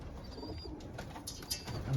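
Racing pigeons coo softly in a loft, low murmuring calls repeating quietly with faint rustling.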